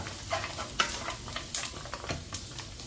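Cashew nuts frying in a pan, a soft sizzle broken by a few scraping stirs and light clinks of a spoon against the pan, close and quiet with no talk.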